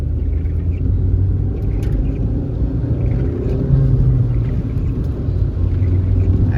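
Engine and drivetrain of a 2009 Pontiac G5 coupe with a manual transmission, driven with a shaky, hard-to-shift gearbox: a steady low rumble throughout, close and fairly loud, with no talking.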